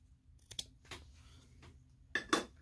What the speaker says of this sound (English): I'm going to go ahead and cut that one as well